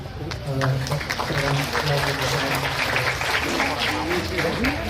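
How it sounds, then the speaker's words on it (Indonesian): Audience applause at an Indonesian Kosgoro anniversary gathering in West Java, a steady crowd clapping throughout with a voice talking over it on a loudspeaker. "Tepuk tangan untuk"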